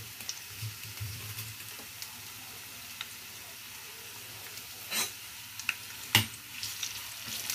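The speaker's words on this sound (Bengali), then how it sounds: "তো তেলটা গরম হয়ে গিয়েছে, এখন আমি দেব পেঁয়াজ।" Sliced onion and bay leaf fry in hot oil in a home kitchen, a faint, steady sizzle broken by a few sharp ticks and stirring knocks.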